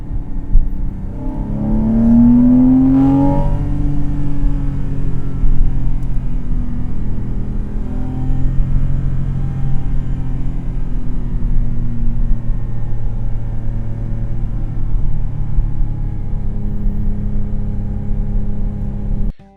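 A Porsche 997 fitted with a cold air intake drives around town, a loud steady engine drone and road rumble from inside the cabin, with a brief rising rev early on, no talking.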